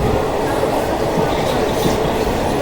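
A sleeper train runs at night between Bangalore and Salem, giving a loud, continuous rolling rumble with wheel clatter, heard from inside the carriage.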